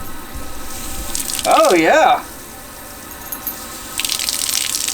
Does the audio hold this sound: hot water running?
yes